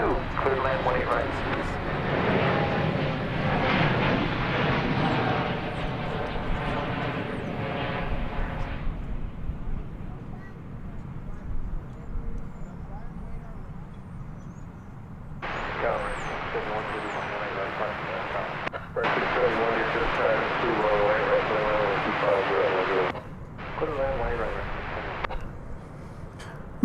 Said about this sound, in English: American Flight 1691 from Phoenix, Arizona, an Airbus A321 was that plane.